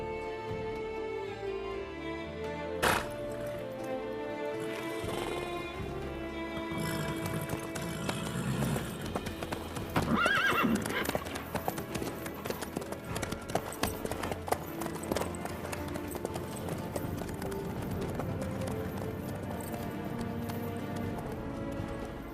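Horse hooves clip-clop in a steady walking rhythm in The Witcher 3 video game, continuous and mid-distance under a full game soundscape.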